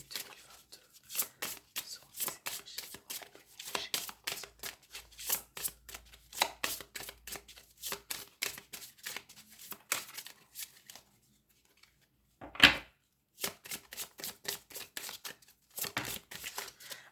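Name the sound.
shuffling tarot cards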